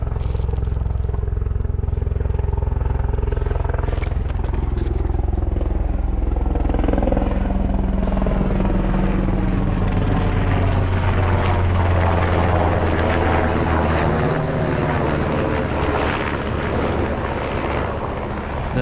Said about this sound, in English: I hear a chopper coming.